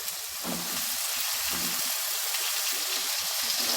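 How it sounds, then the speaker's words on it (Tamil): Steady sizzling of vegetables frying in a hot pan for radish sambar, with occasional soft stirring scrapes, close and continuous throughout. "இப்போ இதெல்லாம் நல்லா வதக்கி விட்டுக்கணும்"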